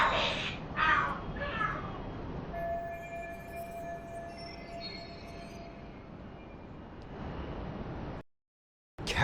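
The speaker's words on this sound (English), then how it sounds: "Cats fighting? What are they screaming for?" Cats screeching and fighting in Lost Judgment: a few harsh yowling cries up front, then drawn-out whining tones over a steady noisy background, ending abruptly.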